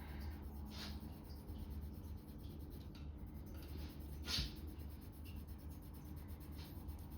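Colour pencil (Luminance Burnt Sienna) shading on textured paper at medium pressure for a cat's-eye drawing, heard as a soft, continuous scratchy rubbing, faint and close, with a few brief sharper strokes and no talking.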